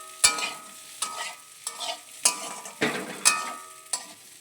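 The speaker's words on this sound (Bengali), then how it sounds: "একটু ভাজা ভাজা হোক মশলার সাথে।" Paneer curry frying with garam masala in a pan, sizzling with repeated scraping stir strokes roughly every half second to second, close and clear with no speech.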